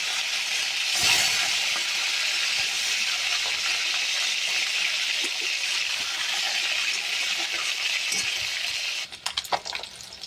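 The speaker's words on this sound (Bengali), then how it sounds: "তেল গরম হয়ে গিয়েছে, এবার মাছগুলো ধীরে ধীরে ছেড়ে দেব। মাছগুলো ভাজা হবে" Katla fish pieces frying in hot oil for a kohlrabi and fish curry give a steady, loud sizzling hiss throughout, with a brief clatter near the end.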